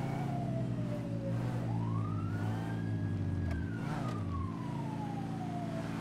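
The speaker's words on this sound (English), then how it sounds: "Why is a siren running? Oh, it's the fire truck." Fire truck siren wailing and sweeping in pitch across the whole stretch, loud and steady over a low engine rumble, with no talk.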